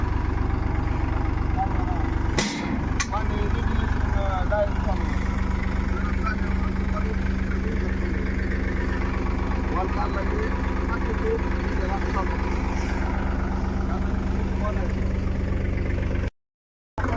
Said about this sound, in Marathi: मोठ्या ट्रॅक्टरनं रोटराय चालू आहे बारका ट्रॅक्टर लगेच ज्वारी पेरायला चालू आहे